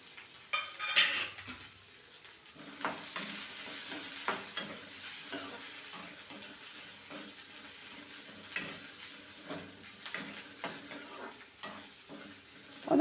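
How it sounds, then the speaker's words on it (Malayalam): Garlic and onions sauté in hot oil in a pan, a steady close sizzle broken by repeated scraping stirs and a few louder clanks across the whole stretch, with no talk. "രണ്ടും കൂടി നമുക്ക് എണ്ണയിലിട്ട് നന്നായി ഒന്ന് വഴറ്റണം."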